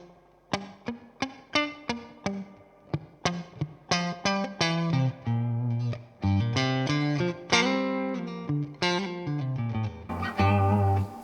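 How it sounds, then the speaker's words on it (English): Electric guitar through the spring reverb of a Fender Deluxe Reverb 1965 Reissue amp, wet and splashy, playing plucked notes and then strummed chords, each attack followed by a lingering metallic wash. "this reverb is kind of ridiculous."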